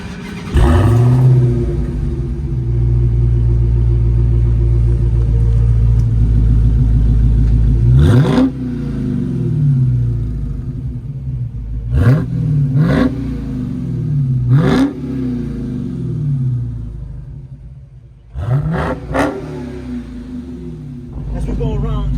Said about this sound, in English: You have this exhaust, very beautiful exhaust.